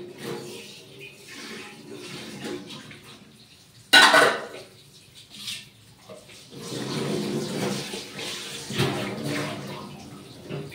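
Tap water runs into a vessel in a home kitchen while rice boils nearby, a broad steady splashing flow that starts abruptly and rises and falls with handling, mixed with clinks of pots and dishes.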